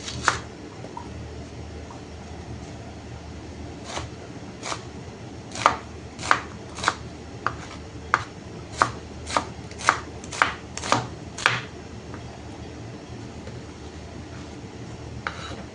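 Onion and chili being chopped with a knife on a board: a run of about fifteen sharp, close chops in an uneven rhythm over a quiet kitchen background.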